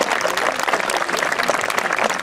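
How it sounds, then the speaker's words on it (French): Audience applause at an outdoor medieval festival at a château, a short burst of brisk, loud clapping from a close crowd that stays dense throughout. "Là, vous pouvez l'applaudir."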